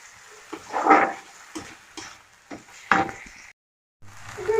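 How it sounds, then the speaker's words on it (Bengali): Tomato-onion spice paste (masala) frying in a pan, with a few bursts of sizzle and spatula scrapes between quieter pauses, close by, with a brief silent gap near the end. "সব দিয়ে মশলা একটু পেস্ট করে রেখে দিই আমি সেই মশলাটা এবার মশলাটা দিয়ে ভালো করে কষিয়ে নেবো"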